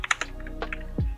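Typing on a computer keyboard, a few quick close key clicks followed by a heavier keystroke, like pressing enter, with no talk.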